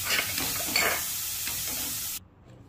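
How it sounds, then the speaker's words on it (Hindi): Cashews dry-roasting in a pan without oil, for fasting peanut pede: a steady close scraping and stirring with a light dry hiss for about two seconds, then it cuts off abruptly to near silence. "हल्का सा काजू भी हम सूखा ही भून लेंगे"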